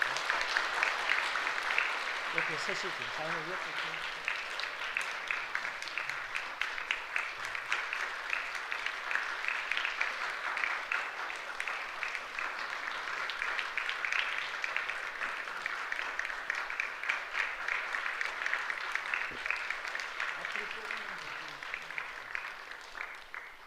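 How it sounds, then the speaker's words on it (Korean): Congregation at a church service clapping in congratulation for course graduates, sustained, even applause throughout, with a voice speaking briefly over it near the start. "자, 박수로 한번 축하하겠습니다."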